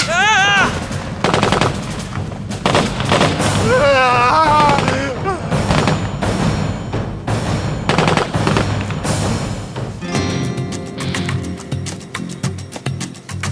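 Automatic gunfire rattles in rapid bursts during a tense armed standoff at a border post, loud and close, mixed with booms and shouting voices that break in between the volleys.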